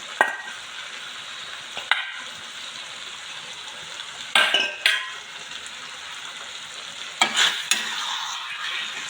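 Chicken frying with onions in a pan, a soft steady sizzle broken by a few sharp clinks and scrapes of a utensil stirring against the pan, heard close with no talk.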